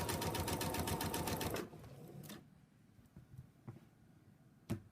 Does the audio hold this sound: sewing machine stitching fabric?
yes